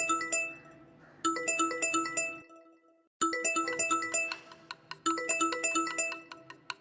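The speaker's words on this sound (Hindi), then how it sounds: "किसका फोन आया देखना जरा।" A phone rings with a bright, tinkling chime melody in repeated phrases, separated by a short silence, fairly close and with no talk over it.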